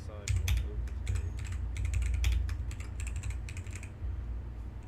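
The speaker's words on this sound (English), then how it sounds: "Just typing up a poll." Fingers type on a computer keyboard nearby in quick, irregular bursts of clicky keystrokes with short pauses between them, over a low background hum.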